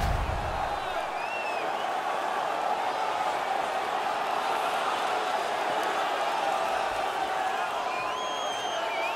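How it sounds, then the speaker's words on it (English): A home crowd at a playoff hockey game roars and cheers in a dense, steady wall of noise that holds at the same loudness throughout, with a few whistle-like whoops rising above it. "The home crowd is ecstatic."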